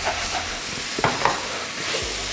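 Egg is stirred into courgettes and beans frying on high heat for a Bengali-style bhaji, a continuous close sizzle broken by a few scraping stirs of the spoon.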